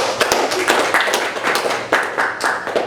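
Hands clap in a quick run of sharp, close slaps during an Indonesian podcast recording, forming a brief burst of applause from a small group in a room.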